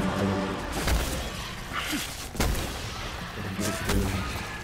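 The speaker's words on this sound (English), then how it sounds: "That feeling of like a crispy shot of a hand cannon is a feeling that I really miss." Hand cannon shots in the Destiny 2 shooter, several sharp cracks spaced about a second apart over dense game ambience and rumble.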